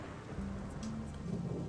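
Soft steady rain with low rumbling thunder in the fantasy role-playing game Gothic 2, a quiet hiss under deep rolling tones and a few faint higher ticks, heard alone without voices.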